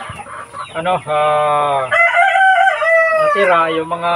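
Native chickens on a farm cluck and crow loudly up close, a rooster-like call stretching across the clip, with a brief voice speaking near the start.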